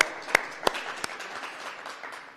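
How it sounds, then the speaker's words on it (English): An audience at an aviation safety summit applauds, a steady patter of clapping with a few sharp, close individual claps standing out early on. "Can we have a round of applause for Brad coming in?"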